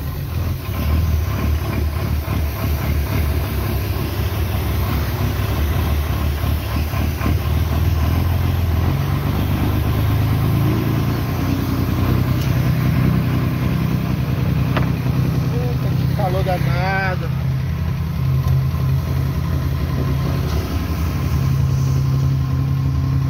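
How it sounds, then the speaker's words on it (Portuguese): A Mercedes-Benz 1621 truck engine with a turbocharger runs steadily, a continuous mid-pitched rumble with a constant high whine above it, while someone talks over it for most of the time. "essa turbina aqui, galera, o barulho do caminhão morre, fica xoxo demais da conta."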